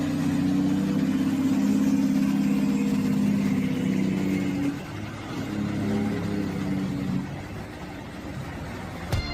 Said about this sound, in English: This is the Pacific Truck